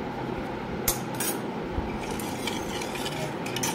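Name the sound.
stirring a spiced drink mixture with a spoon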